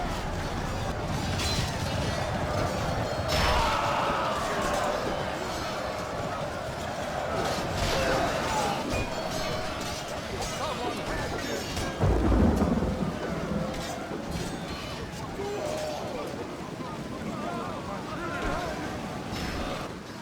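A medieval battle in heavy rain in Medieval II Total War plays out as a constant hiss of rainfall with rolling thunder and scattered clashes, rising to a louder crash midway, with voices mixed in.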